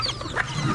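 A backyard chicken gives a brief, low cluck up close, with soft farmyard ambience around it.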